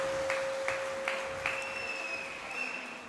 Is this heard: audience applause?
yes